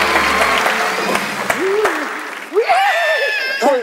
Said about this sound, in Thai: ปรบมือนะครับ